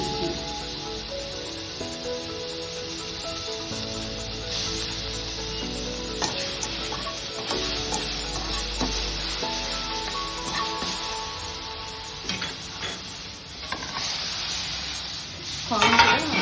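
Chopped onions and green chillies frying in oil in a pan, a steady close sizzle with scraping stirring sounds running throughout and no talking.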